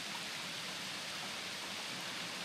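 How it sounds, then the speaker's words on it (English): Gill Force, a waterfall in the Yorkshire Dales swollen after rain, gives a steady, full rushing roar of falling water heard close up, with no voices. "I've got to say, one of the prettiest waterfalls I've seen in a while."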